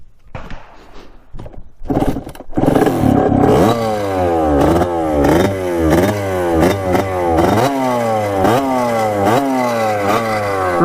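A cheap dirt bike engine with the choke on starts up after a few rough bursts, then revs repeatedly in rising and falling surges with a rattly, uneven tone, loud and close.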